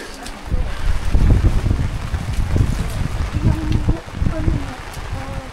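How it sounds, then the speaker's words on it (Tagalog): Strong typhoon wind gusts roar across an exposed cliffside car camping site in Atok, Benguet, buffeting the microphone loudly and continuously while people talk underneath. "Ang lakas ng hangin."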